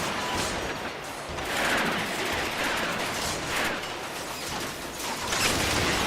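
Sustained gunfire and combat noise from the Transformers: Rise of the Dark Spark video game, a dense, continuous clatter of shots with whooshing bursts at steady loudness throughout, no voices.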